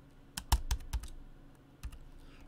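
A short burst of typing on a computer keyboard while entering HTML code, a quick cluster of crisp key clicks followed by a pause and a couple of further taps, close and fairly quiet.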